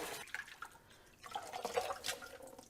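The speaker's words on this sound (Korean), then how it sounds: "그래서 서너 번 깨끗하게 헹궈 주시고요." Water drips and splashes as boiled dried gondre (Korean thistle) greens are rinsed by hand, soft and close, with irregular trickles and a brighter splashing burst toward the end.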